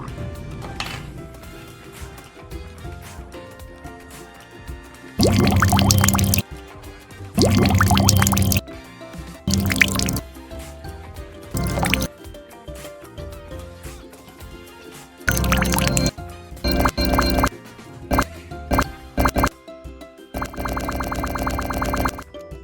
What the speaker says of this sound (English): Now, you have to pour the cold water into the plastic container.